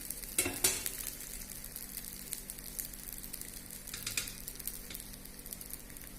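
Half a teaspoon of soybean oil sizzles in a hot pan for semolina uttapam with vegetables, a soft continuous crackle with a couple of louder metallic scrapes near the start and more now and then.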